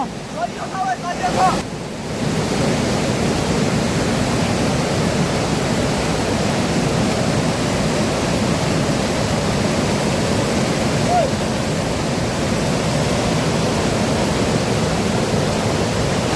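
A large river rushes in a loud, steady roar that fills the whole stretch after a brief quieter moment at the start, like broadband water noise heard up close.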